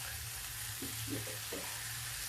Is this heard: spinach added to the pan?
yes